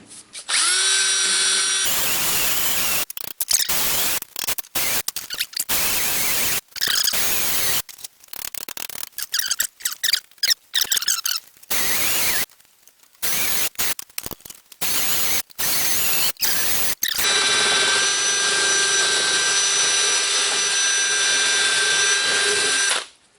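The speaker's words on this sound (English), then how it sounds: "I'm going to take the wire brush on the drill and try and clean that up some" A wire brush spinning on a power drill whirs loudly in bursts while cleaning a rear axle on a Chevy 2500HD, stopping and starting repeatedly before a long continuous run at the end.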